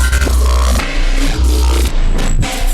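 Dense, washy reversed loop drenched in spacey reverb, swelling and pulsing with a wobbling tremolo over a heavy low drone, loud and continuous throughout.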